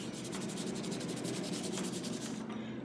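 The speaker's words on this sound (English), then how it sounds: "Just lightly rubbing the back." Paper being lightly rubbed by hand on its back during an image transfer, a steady soft scratchy friction with faint rhythmic strokes continuing throughout at close range, with no talking.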